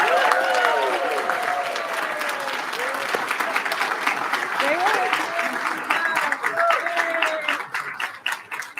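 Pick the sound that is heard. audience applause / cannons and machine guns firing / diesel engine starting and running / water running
audience applause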